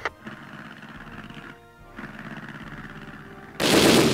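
Rapid naval gunfire from warships in the naval combat game Navyfield, a sustained rattling barrage that briefly drops out, resumes, then ends in a loud, dense burst of noise.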